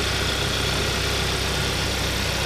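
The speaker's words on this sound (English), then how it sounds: "And there's a GDI engine." A Kia Optima with a GDI engine idles steadily under the hood, a loud, continuous close-up hum with a faint regular ticking pulse and no talking.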